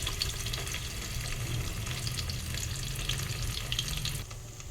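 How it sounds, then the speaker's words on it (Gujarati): Paneer pieces fry in a pan with a steady, dense sizzle and crackle close up, continuous throughout before easing slightly at the end. "બીજું પનીર જે છે એને પણ આપણે ફ્રાય કરી લઈએ।"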